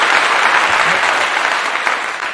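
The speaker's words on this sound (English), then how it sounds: "I just want to give you a clap, brother." Loud, dense clapping for a caller on a live talk show, a close, continuous burst of many hands that holds steady across the short stretch.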